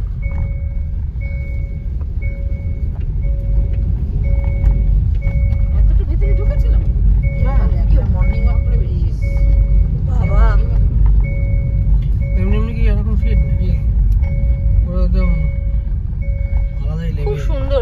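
A car's steady low engine and road rumble carry on throughout a drive along an empty morning road, with intermittent beeping tones and people talking over the noise inside.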